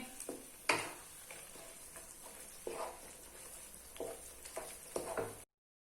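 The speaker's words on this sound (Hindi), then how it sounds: "तकरीबन 10 मिनट हो गए हम इस तरह से इसको भूनते हुए" Pumpkin and semolina halwa roasting in a pan over low flame, with a faint continuous sizzle and periodic scraping stir strokes, close and quiet.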